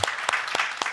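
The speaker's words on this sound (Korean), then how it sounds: "주님께 감사와 영광의 박수를 올려드립니다" Applause during a Korean church service, heard as a few sharp, separate claps spaced about a quarter second apart against a hushed background.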